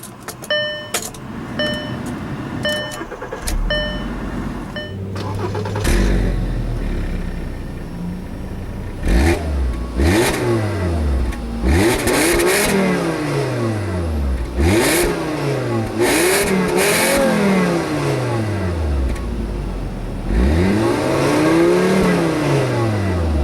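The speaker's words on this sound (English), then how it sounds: "all you have to do is insert the key into the ignition and twist to start" A 2008 Volkswagen New Beetle engine cranks and starts, then revs repeatedly, rising and falling in loud bursts with brief settling between each rev.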